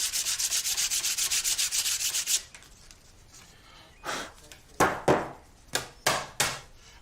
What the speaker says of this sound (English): Just going to get a bit of sandpaper and then just smooth it up.